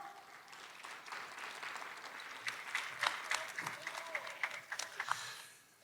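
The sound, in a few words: audience applause welcoming the mayor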